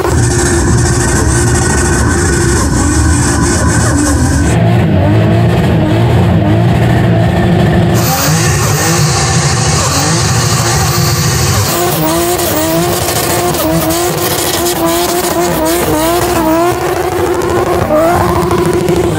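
A 950hp no-prep drag race car spins donuts, its engine revving hard and rising and falling while the tires squeal and skid continuously, loud and close throughout.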